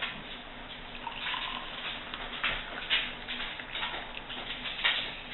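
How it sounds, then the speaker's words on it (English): Brewed coffee pours from a coffee pot into a small glass, a soft continuous trickling splash lasting a few seconds, close and fairly quiet. "So I'm going to pour some in a little glass here"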